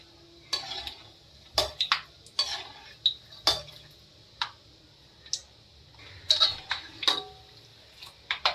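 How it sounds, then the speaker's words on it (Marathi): Peanuts dry roast in a pan while a spoon stirs them. Repeated scraping clicks and taps come in an irregular rhythm, loud and close, with no talk. "आता आधी आपण शेंगदाणे भाजून घेऊया"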